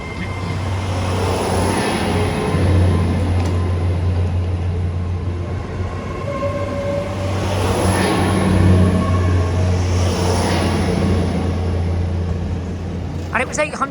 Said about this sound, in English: departing out now is the 1704 Great Western Railway service from Plymouth to London Paddington